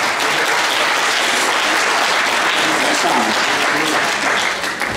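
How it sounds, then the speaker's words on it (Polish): Loud, sustained audience applause for sponsors at a charity event, a dense continuous roar of many hands clapping that holds evenly throughout, with faint voices mixed in. "brawa dla sponsorów."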